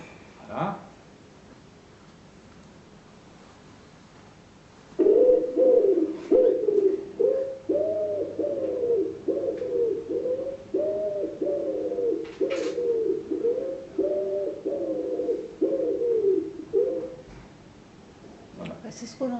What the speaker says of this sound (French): Je vais faire écouter la palombe.